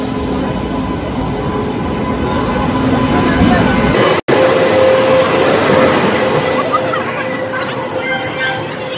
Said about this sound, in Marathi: आली आता ट्रेन आली.